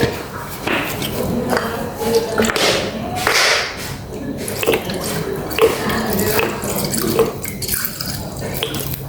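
Lime juice, three tablespoons, poured into a dish while making a three-flavor dipping sauce for herbal stewed chicken: a trickling, splashing liquid pour with small clinks and knocks, close and moderately loud, under light kitchen background sound.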